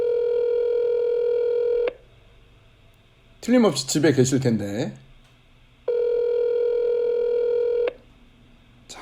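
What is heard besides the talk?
telephone dialing tones while calling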